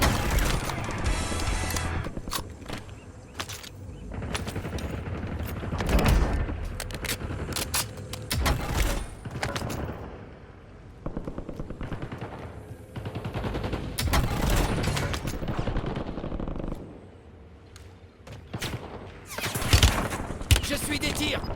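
Gunfire in the video game Warzone: bursts of automatic fire and scattered single shots crackle loudly in irregular clusters, mixed with impacts and clatter, while a French-speaking voice talks over the action.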